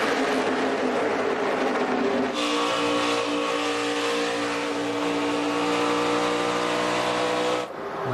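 NASCAR Nationwide race cars roar at Texas under a loud, sustained engine note that shifts abruptly in pitch as the throttle is worked, then cuts off near the end, with no talk.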